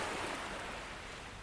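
Ocean waves wash and roar in a steady, fairly loud ambience with no voices, a soft continuous surf.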